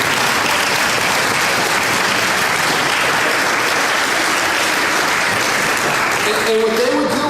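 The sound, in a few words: applause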